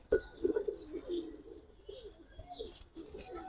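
A pigeon, a large female Kaldom Chuithal high-flyer, gives soft throaty coos in short repeated phrases, close and quiet, with faint chirps mixed in.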